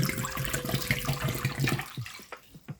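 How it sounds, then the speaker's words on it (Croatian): Water poured into a cooking pot that holds halved potatoes, a steady close splashing stream that tapers off into a few separate drips. "Dodat ćemo još vode."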